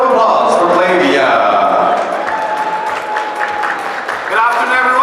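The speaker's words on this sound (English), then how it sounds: "So please make a warm round of applause for Clavia." Applause and cheering from an audience at a youth entrepreneurs panel event, loud and sustained for the whole stretch, with crowd voices and a tonal sound mixed in.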